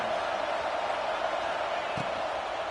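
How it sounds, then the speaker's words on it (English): Stadium crowd noise in a college football video game featuring the Buckeyes, a steady wash of distant cheering and roar that holds at an even level throughout. "This crowd bringing the energy and noise early."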